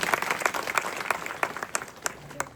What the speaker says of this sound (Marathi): मृदंगाचार्यासाठी जोरदार टाळ्या वाजवायच्या सगळ्यांनी